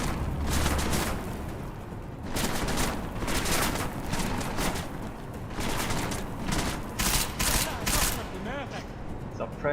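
Repeated bursts of gunfire in the Deus Ex: Mankind Divided game, rapid fusillades in several waves over continuous background rumble, with voices talking between and under the shots.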